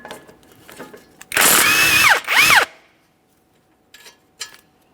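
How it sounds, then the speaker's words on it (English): A power tool spins up to loosen a 14mm mounting bolt on a 2015-2019 Subaru Outback front lower control arm, giving two loud whirring bursts of about a second each, then faint clicks of parts. "let's remove our 14mm mounting bolt holding this in place."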